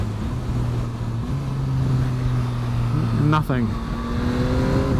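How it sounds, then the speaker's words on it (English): Yamaha MT-09 motorcycle engine droning while upshifting with its quick shifter, the steady tone dropping in pitch abruptly at each shift, with a brief spoken word. "Check this quick shifter out, how smooth it is."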